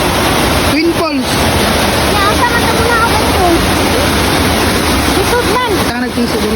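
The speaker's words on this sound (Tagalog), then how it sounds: "Twin Falls." Twin Falls at Mabanog Falls rushes with a dense, loud, continuous wash of falling water, and faint voices and chirps come and go beneath the roar.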